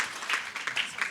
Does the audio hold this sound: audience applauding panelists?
yes